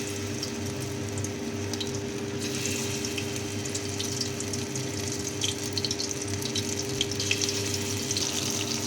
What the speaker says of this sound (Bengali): ভালোভাবে গরম হয়ে গেলে এবার এক এক করে চর্বির পিসগুলো তেলে দিয়ে দেবো।